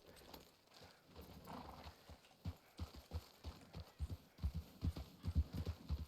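Horse hooves clip-clop on the ground in the Red Dead RP video game, faint at first and then a steadier, louder rhythmic trot that builds toward the end.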